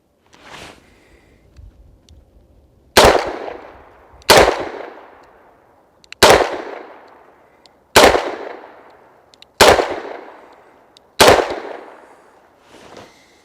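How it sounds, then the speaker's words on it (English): Six sharp, loud revolver shots from a Smith & Wesson Model 27-9, fired at an outdoor target from 15 yards, spaced roughly one and a half seconds apart, each with a ringing decay and no talking. "fired 5 shots into the body as fast as I felt that I could accurately put shots on target"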